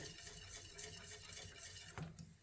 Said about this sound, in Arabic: بنتم هيك عم نطبخه وعم نحرك مظبوط